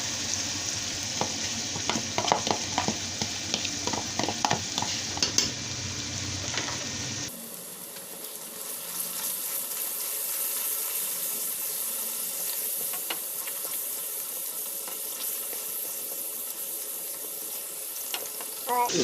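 Chickpea curry masala with yogurt fries in a pan, stirred with a spoon scraping and clinking over a close sizzle, then a softer, steadier hiss as the heat settles.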